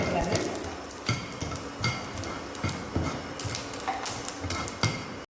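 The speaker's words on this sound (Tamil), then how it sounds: "அதே கடாயில் லைட்டாக எண்ணெய் ஊற்றி இந்த வரமல்லியை வறுத்துக்கலாம்" Dried coriander seeds roast in a little oil in a kadai, giving a soft continuous sizzle with repeated clinks and scrapes of a spoon stirring against the pan, close and steady throughout.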